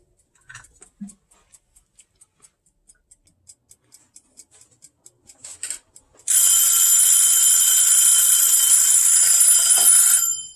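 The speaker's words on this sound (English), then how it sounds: "my timer. I always got a timer going." A kitchen timer ticks in a steady series of soft clicks, then breaks into a loud, continuous bell-like ring that lasts about four seconds before it stops.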